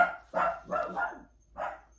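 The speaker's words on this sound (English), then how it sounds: "Sorry for the barking dog." A dog barks three or four times in quick succession, nearby and fairly loud, with short pauses between barks.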